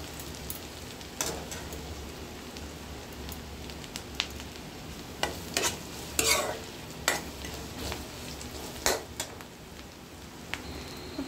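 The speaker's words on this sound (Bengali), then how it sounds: "আমি সব পেঁয়াজ দিয়ে দিলাম, পেঁয়াজটা একটু সময়ভাবে নাড়াচাড়া করে" Onions frying in mustard oil in a wok, stirred for a prawn dish: a steady close sizzle broken by sharp scrapes and clinks of the spatula against the metal at irregular intervals, with no talking.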